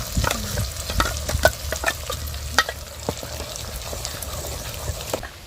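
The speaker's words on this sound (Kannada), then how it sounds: "ನುಣ್ಣು ರುಬ್ಕೊಂಡು ಚೆನ್ನಾಗಿ ಸ್ವಲ್ಪ ಎಣ್ಣೆಲಿ ಫ್ರೈ ಇದನ್ನ ಎಣ್ಣೆ ಬಿಡೋಗಂಟ" Ground pepper masala sizzles in hot oil while a spoon stirs and scrapes the pan in irregular clinks, close up, with no talking.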